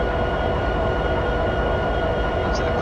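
A train backing up in the Open Rails simulator gives off a steady, loud mechanical drone with a low rumble and faint tonal hum, unchanging for a few seconds.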